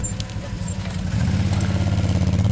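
A quad ATV engine throttles on sand, a loud steady buzzing drone that rises in intensity as gas is added partway through, with no talking.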